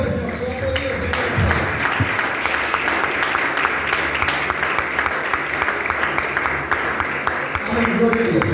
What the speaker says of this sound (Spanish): Se va a aplaudir al Señor.